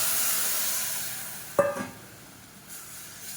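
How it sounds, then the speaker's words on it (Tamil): Ground tomato and onion hit hot oil in a pan for quick sambar, a sudden loud sizzle that bursts then fades into a soft hiss, over a quiet kitchen background. "இப்போ நம்ம கடைஞ்சி வச்சுருக்க இந்த தக்காளி வெங்காயத்தை அப்படியே சேர்த்துக்கலாம்."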